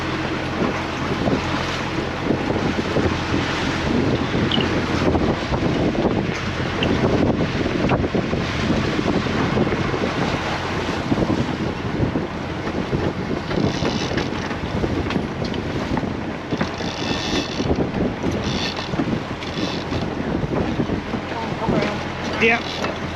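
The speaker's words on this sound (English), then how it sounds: "Okay, tacking." A sailboat tacking under way in about 12 knots of wind, moving at roughly 5.5 knots, with steady broadband wind rush and water noise throughout, buffeting the microphone, and a few brief voices in the background.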